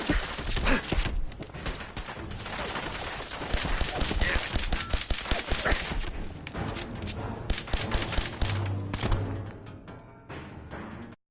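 Gunfire in the video game Fallout 4, a dense, continuous barrage of shots layered over game music and sound effects, loud throughout.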